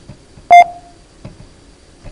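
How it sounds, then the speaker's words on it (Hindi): A computer beep produced by an assembly language program outputting ASCII code 07 sounds once as a short, loud electronic tone, with faint background noise around it. "और ये आपका प्रोग्राम बीप करता है,"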